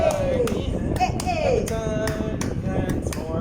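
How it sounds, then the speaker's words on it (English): Hands clap along to a children's praise song, with sharp claps landing at a steady beat under sung voices and a murmuring crowd. "Clap your tiny hands"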